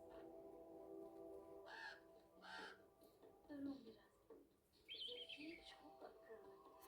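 A raven gives several hoarse caws in short, spaced bursts, fairly close, with a voice speaking in the background.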